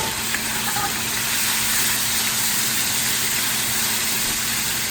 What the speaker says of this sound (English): I'm gonna take the chicken and dump it right here in this oil and fry it